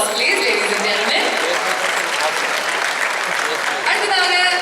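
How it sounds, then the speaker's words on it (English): A crowd at an entertainment launch event claps for performers, loud continuous applause with some cheering, and a voice rising over it near the end. "another big round of applause please ladies and gentlemen"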